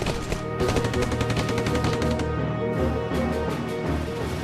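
Gunfire from a wartime scene of German troops under fire near a building and trees: dense, continuous bursts of rapid shots and machine-gun chatter, loud and close, with a brief lull mid-way before firing resumes.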